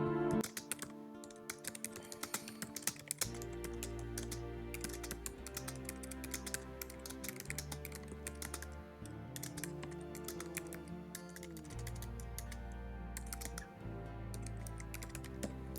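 Computer keyboard keys tapped in a steady run of quick clicks while a booking calendar's meeting location is entered, heard over continuous tonal background music for the whole stretch.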